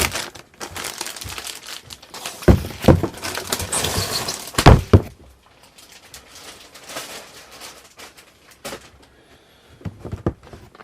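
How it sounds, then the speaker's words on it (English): Outer plastic wrap is pulled and torn off a C64 Maxi product box, with loud crinkling and crackling bursts, then quieter intermittent rustles and a few sharp crackles near the end. "I guess we should probably try and take the, I would say shrink wrap, it's not really shrink wrap, but the outer plastic off."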